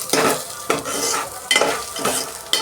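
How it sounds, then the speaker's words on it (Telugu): Spices stirred into a cooking pot with a spoon, giving repeated scraping strokes about every half second over a steady sizzle of frying, close and moderately loud. "ఒక 2 minutes మిక్స్ చేసుకుందాం ఫ్రెండ్స్."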